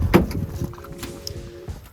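Passenger door of an old car under rebuild being opened, a sharp metallic clunk of the latch, then a few lighter knocks and rattles as the door swings, close to the microphone with no talk.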